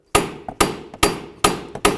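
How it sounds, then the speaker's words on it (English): Five hard metallic hammer blows land in a steady rhythm, each with a quieter tap between, close and loud, driving strut mount bolts out of a 2000-2005 Buick LeSabre. "Use your hammer, go ahead and drive those through."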